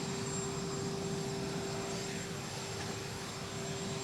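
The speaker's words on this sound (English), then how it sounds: "here he is traveling on Air Force One back to Palm Beach with President Trump." Air Force One's engines drone steadily at Palm Beach International Airport on arrival, a constant loud roar with a sustained whine, heard from nearby with no talking.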